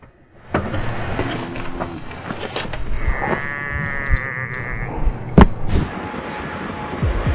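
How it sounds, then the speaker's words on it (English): Sheep bleating loudly and close by, with several wavering cries over steady outdoor background noise. "Wait, did that sheep just laugh in his face?"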